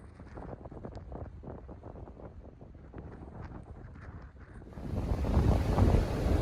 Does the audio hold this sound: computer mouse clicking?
no